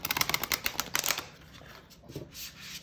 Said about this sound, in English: let's try to riffle shuffle this